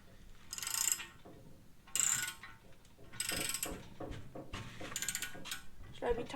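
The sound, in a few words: draw bolt being tightened to install rear cam bearing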